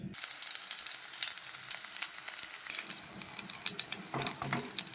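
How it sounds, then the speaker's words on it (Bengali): Eggplant pieces frying in hot oil give a close, steady crackling sizzle that grows busier and louder partway through, with no voices. "বেগুনটাকে ভেজে নেবো"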